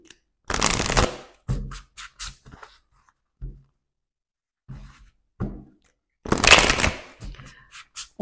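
Energy healing oracle cards being shuffled in short bursts, crisp riffling flurries separated by pauses with soft taps, the loudest burst near the end.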